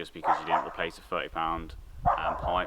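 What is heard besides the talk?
dog barking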